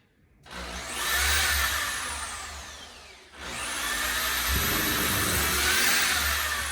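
A drill with a thin bit whines at high speed while boring a small marking hole in a wall for a scrap-material shelf, two close, loud bursts with a brief pause between them.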